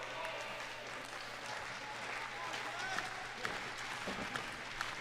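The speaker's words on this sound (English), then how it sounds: "Now the crowd here in Dallas for Autumn Attack. Starting to get behind Robbie Eagles" Wrestling crowd at Autumn Attack in Dallas rallying behind Robbie Eagles, a steady roar of cheering and applause with scattered sharp claps and thuds, commentary voices running over it.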